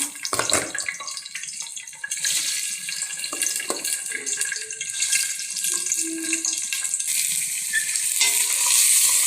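Sliced onions and green chillies hitting hot oil in a pan for a country chicken curry, giving a loud, bright, continuous frying hiss with occasional stirring clinks; no talking.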